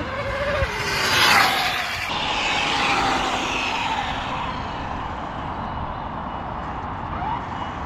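An Arrma Limitless Infraction RC car on ONYX batteries makes a speed-run pass: a loud, high-pitched motor whine swells as it approaches, sweeps past and then recedes into a fading drone, with no voices.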